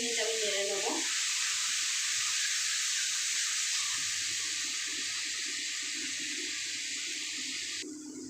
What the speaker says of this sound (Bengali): এবার আমি পেস্টটা দিয়ে এক দু মিনিট আমি নেড়ে নেব।